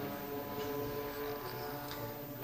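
A Chrysler prototype race car engine at the Le Mans 24 Hours, heard as a steady, droning hum at some distance, quiet and unbroken throughout.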